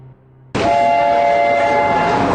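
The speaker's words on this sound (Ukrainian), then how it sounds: "Перон, звідки за 10 хвилин відправлятиметься поїзд Київ-Варшава." A train at a station platform of the Kyiv–Warsaw service gives a loud, sustained horn-like tone that starts abruptly after a quiet moment and holds steadily to the end, close and dominant.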